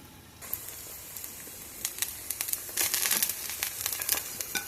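Eggs and cheese cook in a cast iron pan with a soft, steady sizzle and scattered crackles and pops that grow busier midway, heard fairly faint and close with no talking.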